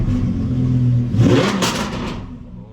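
An Audi R8 5.2 V10 coupe revs hard under acceleration, the engine note climbing and swelling loud and close before easing back, heard alone without talk.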